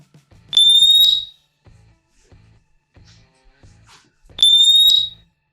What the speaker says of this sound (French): l'alarme se met en marche, 85 décibels, ça s'entend bien